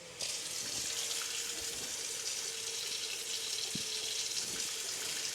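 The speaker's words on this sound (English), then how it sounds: "if you turn the tap on, really cold water" Cold water runs steadily from a kitchen tap into a sink, a continuous close hiss and splash throughout with a few small clunks underneath, no voices.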